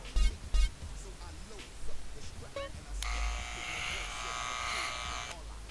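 Electric clippers buzz steadily during a beard trim at a barber shop in GTA San Andreas, a bright sustained drone that enters after a few thumps and brief speech and holds for several seconds.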